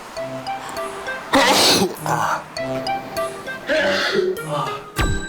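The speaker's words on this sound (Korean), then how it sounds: "갑자기 재채기를 심하게 하는 집사." Someone with a cat allergy sneezes heavily indoors, several loud, forceful bursts with coughing and throat clearing between them. Soft background music plays underneath.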